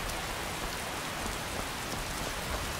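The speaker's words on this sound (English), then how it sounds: "Oh, we're getting some rain" Steady rain from the Nimbus weather mod for Skyrim falls in a dense, even hiss that stays constant throughout, with faint scattered droplet patters and no voices.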